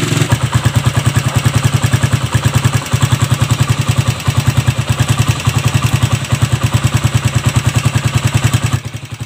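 An old motorcycle engine runs steadily at idle with a loud, rapid, uneven chugging rhythm and mechanical clatter, close by, with no talking.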